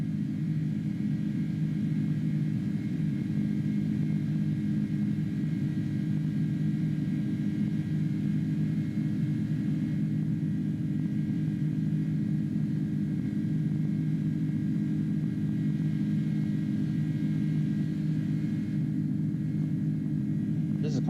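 Airbus A310 jet engines climbing after takeoff in Microsoft Flight Simulator 2020, a steady low droning rumble with a constant hum, unbroken and even throughout.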